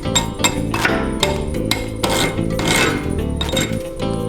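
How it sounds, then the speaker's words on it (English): A hammer chips slag off a freshly laid flux-cored weld bead, giving a steady run of sharp metallic taps and clinks that ring close and clear. "The slag should pop right off real easily."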